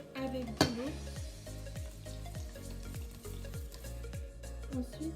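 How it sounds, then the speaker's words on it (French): Crepe batter of flour, milk and water being whisked in a bowl: a steady rhythmic series of low scraping strokes with light clinks, plus one sharper knock near the start. "après avoir bien mélangé du lait ou de l'eau, ou les deux"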